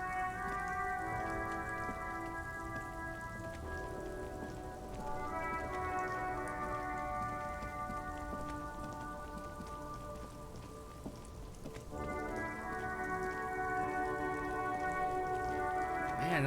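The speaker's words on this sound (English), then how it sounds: "All around you, rain falls on the great city of Revachol." Steady rain falls across the great city of Revachol in the video game Disco Elysium, a continuous hiss of drops under a sustained, layered musical drone that swells and fades, with no voices.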